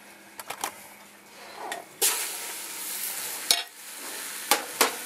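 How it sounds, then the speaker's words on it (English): Deer meat hits a hot oiled pan and keeps frying in a steady soft sizzle, up close, with a few sharp clinks of a utensil stirring against the pan. "Let that fry up."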